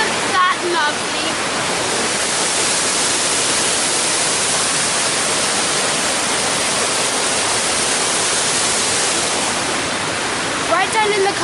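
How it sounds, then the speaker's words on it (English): Waterfall in Rouken Glen Park, Glasgow, a steady dense rush of falling water that stays loud and unbroken throughout, with brief voices at the start and end. "if you like that waterfall"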